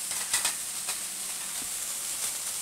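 Chana dal, urad dal and spices dry-roasting in a pan at home, a steady soft sizzling hiss with faint scraping stirs, close and continuous with no one speaking.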